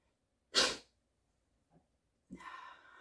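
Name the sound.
sneeze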